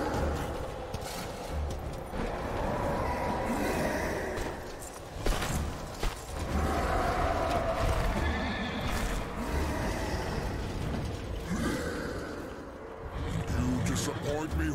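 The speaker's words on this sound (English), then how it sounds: "Is this my horse? This looks like a war horse." A war horse whinnies in Darksiders: Warmastered Edition amid a busy, dense backdrop of clattering and rumbling, with a voice talking over it at times.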